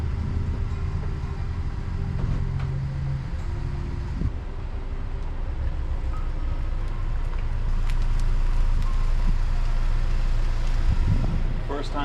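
A Chevrolet Sonic bought at auction driving under its own power on its first drive, with a low engine and road rumble that builds toward the end while a person talks inside.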